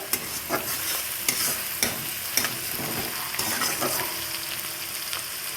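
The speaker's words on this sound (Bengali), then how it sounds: "রসুনটা সামান্য একটু ভাজা ভাজা করে নেব" Garlic fries in a pan with a constant close sizzle, punctuated by regular sharp scraping taps of a spatula stirring.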